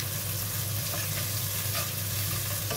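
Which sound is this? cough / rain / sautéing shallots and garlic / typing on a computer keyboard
sautéing shallots and garlic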